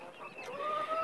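Young chicks peep and cluck while eating starter feed, with thin, high chirps overlapping steadily and fairly close.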